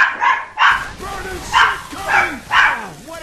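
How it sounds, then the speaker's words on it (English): Several dogs bark and yip in short bursts in the background, about five sharp barks in a few seconds, somewhat distant behind a gaming commentary. "Sorry for the dogs in the background."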